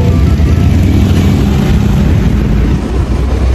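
A quiet motorcycle engine runs close by in La Paz, Tarlac, a continuous loud, rough, low rumble that holds steady throughout.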